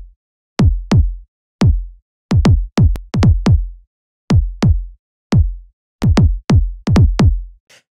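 Kick drum hits processed through a clipper plugin, short punchy thumps with a sharp click and deep decaying boom, played loud and dry in an irregular rhythmic pattern of pairs and clusters.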